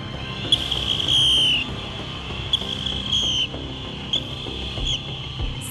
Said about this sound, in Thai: ใครมีนกหวีด เป่าพร้อมกับผมหน้าบัดนี้